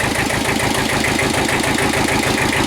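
A Kubota tractor engine idles steadily after a low oil pressure repair, the close, even diesel chugging running continuously with a fast regular pulse.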